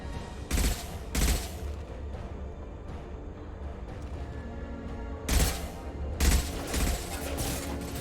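Bursts of gunfire in a Mass Effect side mission with Garrus, including heavy weapons: loud, dense volleys in two clusters separated by a steady roar of combat.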